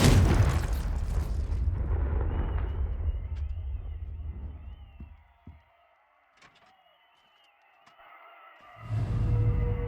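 A Confringo blasting spell from the Hogwarts Legacy video game bursts loudly at the start, with a rumbling boom that tails off into near silence before another heavy blast sounds near the end.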